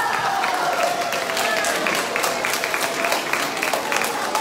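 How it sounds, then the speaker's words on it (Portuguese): An audience at a dance event in Portugal gives a round of applause, dense steady clapping at an even, fairly loud level with crowd murmur and voices mixed in. "Uma salva de palmas para ele."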